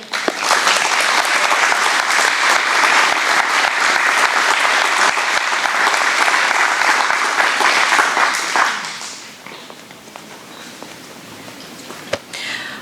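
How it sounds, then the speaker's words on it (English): Loud, steady audience applause at a hometown heroes closing ceremony after Evie's song, dense and continuous for about nine seconds before thinning out and fading to a quiet room. "I think Evie deserves another round of applause"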